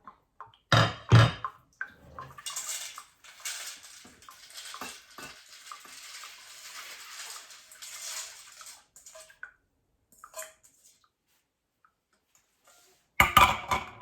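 Rinsed dry beans poured into a crock pot, a loud rattling clatter at first, then a long patter of beans spilling and settling, with a final burst of clatter at the end.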